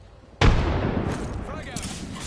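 A frag grenade goes off in a video game with a sudden loud boom and a long rumbling decay that trails off over a couple of seconds.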